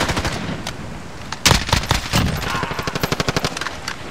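Rapid automatic rifle fire from the Call of Duty Modern Warfare video game rattles out in loud, evenly spaced bursts, with a heavy blast near the middle and a steady run of shots toward the end.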